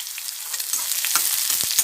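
Garlic and onion fry in a pan, a steady close sizzle with a few sharp crackles and pops over the brief moment.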